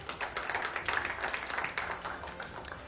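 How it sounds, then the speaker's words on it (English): An audience at the AFC U17 Asian Cup Saudi Arabia 2026 draw ceremony applauds the draw conductor, a moderate, even patter of many hands heard at some distance and fading slightly toward the end. "Everyone, another round of applause for our draw conductor"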